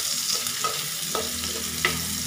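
Onion frying in a pan for a sardine dish makes a steady sizzle, broken by a few sharp utensil stirring scrapes, close and moderately loud with no voices.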